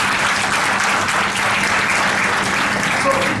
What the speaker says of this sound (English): so a big applause to you.